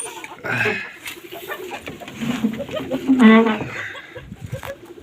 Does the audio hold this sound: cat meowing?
no